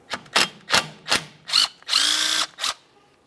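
A power tool removes a T27 torx screw holding the brake rotor on a 2013-2015 Chevrolet Malibu, with six short, loud bursts of drilling whir at a steady rhythm, then a longer sustained run near the end.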